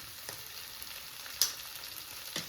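Peanuts and coriander with a spoon of salt frying in a pan for a peanut roti chutney give a low steady sizzle, with a few soft stirring clicks and one sharper scrape near the middle.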